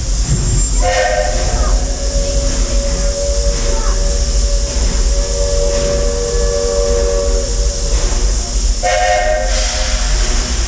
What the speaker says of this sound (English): those two magic whistles from our lovely engineers up front